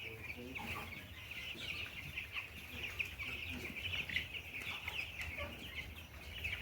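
Steady high chirping and soft clucking from a group of twelve-day-old meat chickens in a brooder, continuous and close, with a low mechanical hum underneath.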